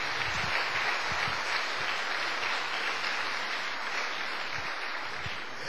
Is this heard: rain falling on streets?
no